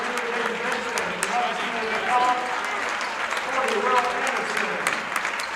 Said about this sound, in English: Tonganoxie giving the round of applause here to the seniors being pulled out of the game